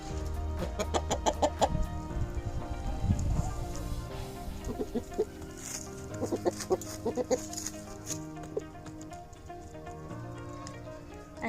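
Hens and a rooster cluck and call on a farm in cold weather, including a broody hen, with repeated close clucks and squawks over a steady farmyard background.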